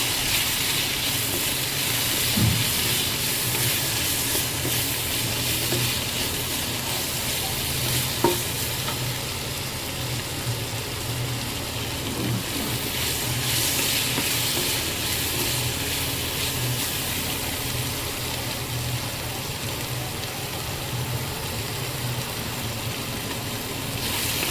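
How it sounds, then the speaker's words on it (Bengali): Potatoes tossed with chilli powder, salt and spices frying in oil in a pan, a steady close sizzle with occasional scraping stirs throughout, no talk. "ভালোভাবে মশলাগুলোকে আলুর সাথে নাড়িয়ে নেব।"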